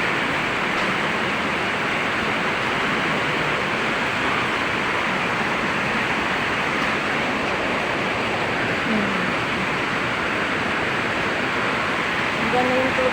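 Strong floodwater current after a sudden downpour, a canal overflowing: a loud, steady, unbroken rush of water that fills the whole clip at close range.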